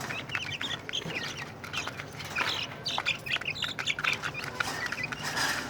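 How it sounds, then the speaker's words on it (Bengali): Pigeons come down to feed, with faint, busy bird calls and chirps from several birds at once, fairly distant and with no talking. "এই তো কবুতরগুলো নামছে,"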